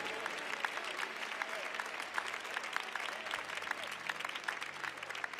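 A church congregation applauds with steady, fairly quiet clapping that keeps an even texture throughout, with sharp individual claps standing out from the crowd.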